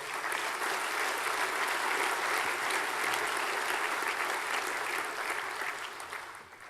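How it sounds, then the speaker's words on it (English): A crowd gives a sustained round of applause for a state health minister during a speech by the Queensland premier, dense and steady clapping that fades slightly near the end. "Give him a round of applause, please."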